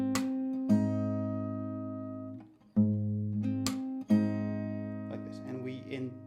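Fingerstyle acoustic guitar sounds the sixth and second strings together in a Hindi song lesson, giving repeated sustained two-note plucks that ring and overlap, with a few fresh attacks and some lighter higher notes near the end.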